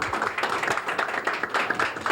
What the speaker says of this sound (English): How about a little round of applause for our contestants here?